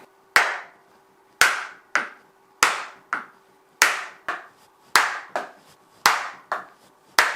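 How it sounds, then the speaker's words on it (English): A hammer strikes a wooden block against the pulley side of a planer's cutter head, sharp knocks in pairs with short gaps, close and clear in an otherwise quiet space. "Gently tap the pulley side of the cutter head with a block of wood and a hammer"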